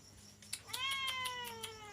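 A cat gives one drawn-out, rising-then-falling meow, close and fairly clear over a quiet background.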